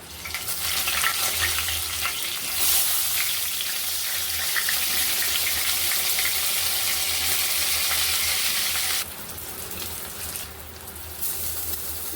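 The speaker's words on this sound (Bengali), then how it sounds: "বাকি বেগুনগুলো একইভাবে ভেজে নেব।" Eggplant slices frying in oil, a loud steady sizzle close by that drops in level toward the end with a few soft handling sounds, no voices.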